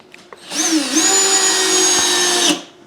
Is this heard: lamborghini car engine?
no